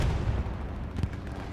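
An explosion in the console video game Hell Let Loose on the Carentan Train Station map, a heavy low rumbling boom with a dense noisy tail filling the whole short stretch, loud and without talk.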